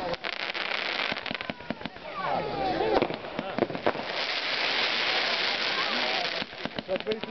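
Red fan-shape firework cake shooting, rapid crackling pops and booming bursts fired one after another for several seconds, with voices talking in the background.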